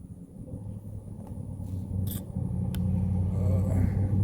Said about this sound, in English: Don't mind that truck going by